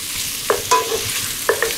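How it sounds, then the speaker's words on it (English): Chopped garlic and red lentils are stirred in a hot pan: a close, steady sizzle broken by several distinct scraping strokes of a utensil. "And let's stir it around."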